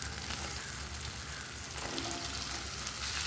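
Small peeled pieces of tender ridge gourd sizzling in hot oil in a pan, a continuous soft crackling fry sound, fairly quiet and close, with no talking.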